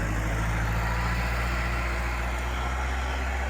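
A Kubota M5000SU tractor ploughing a rice field runs with a loud, steady, low engine drone that holds at an even level the whole time, with no talking.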